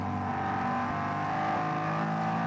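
Ford 5.4 Coyote-derived V8 race car dicing with a BMW at the Nürburgring, a steady distant engine roar holding high revs without pause.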